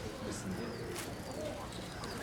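Pigeons coo softly near a rooftop coop, low murmuring calls repeating over a steady outdoor background.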